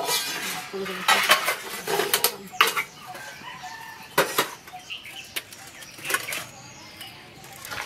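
A metal spoon stirs egg curry with parwal in a cooking pot, giving irregular clanks and scrapes against the pot with quieter pauses between them in an outdoor village kitchen.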